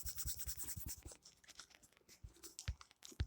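Hand-writing the formula NaCl with a pen or marker, a quick run of dry scratchy strokes and taps, close and fairly quiet, heaviest at the start with a few sharper ticks near the end.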